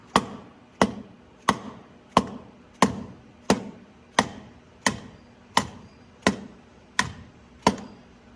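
A hammer taps on a part of an Allis-Chalmers 7060 tractor motor in twelve sharp, evenly spaced strikes about two-thirds of a second apart, each one crisp and close with a short ring.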